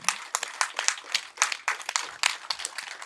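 A film team claps together at a movie event, giving a loud, uneven run of hand claps with no talk.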